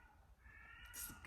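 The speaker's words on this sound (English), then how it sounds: "don't know if you can hear that cat" A stray cat meows faintly in the distance outdoors, a single drawn-out call rising near the end over quiet background hum.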